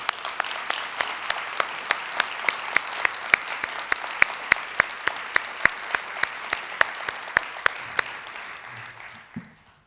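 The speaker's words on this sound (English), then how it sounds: "give a round of applause for those folks who are listening to those stories every day" An audience at an evening event for a children's advocacy center applauds steadily, dense clapping with sharp individual claps throughout, close and loud, fading out near the end.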